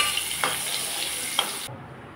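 Sliced bitter gourd frying in plenty of hot oil gives a steady close sizzle, with a couple of faint stirring scrapes, before cutting off abruptly.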